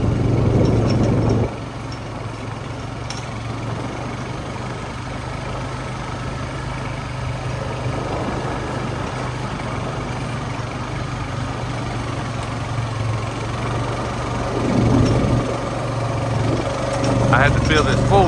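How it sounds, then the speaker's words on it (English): A gas four-wheeler engine idles steadily nearby for the whole stretch, a low continuous drone with a slight swell near the end. "I had to fill this four-wheeler up with gas before I turned the cameras on"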